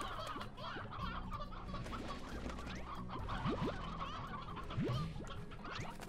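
Hens cluck in the video game Slime Rancher: a steady run of short, fairly close clucks and squawks over a busy game background, with no talk.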